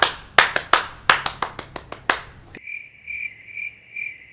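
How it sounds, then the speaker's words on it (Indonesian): Sharp rhythmic hand claps of an Indonesian scout-style tepuk pramuka pattern, about a dozen close, crisp claps in quick groups, followed by a steady, shrill insect-like chirping tone. "Tepuk pramuka."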